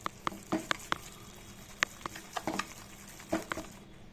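Khatta dhokla batter being stirred and spread in a bowl, a series of soft wet patters and scrapes in an irregular rhythm, close and fairly quiet.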